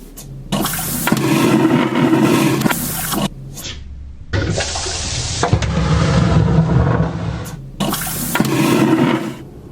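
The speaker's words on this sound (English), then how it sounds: "having a vacuum toilet like you get on an aeroplane with mass suction" Three loud whooshing suction flushes in a row from a cruise ship's vacuum toilet, each a rushing roar of water and air lasting a couple of seconds, close by.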